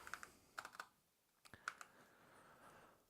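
Computer keyboard typing at a desk, with short bursts of crisp key clicks in small clusters and pauses between them, quiet and close, with no talk.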